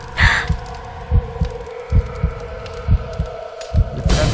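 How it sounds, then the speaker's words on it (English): A heartbeat effect in the video game Deadly Premonition thumps in steady, deep, loud pulses, about seven beats over a low droning hum, with no talk. "You hear that heartbeat? It's mine."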